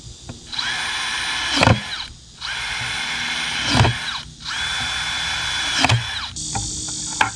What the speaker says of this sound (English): my cordless drill, and we're going to just drill like 5 holes in each bucket